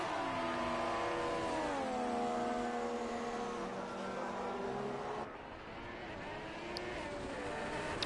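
Formula 1 cars in a racing video game at Hockenheim, including a Haas with a Ferrari engine, whine continuously with engine tones that sweep down through gear changes, then settle to a steadier drone after a brief drop in level.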